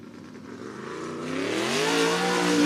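Race car engine on a dirt speedway on a spring race night, rising and revving as it comes through the final turns, growing steadily louder over a couple of seconds.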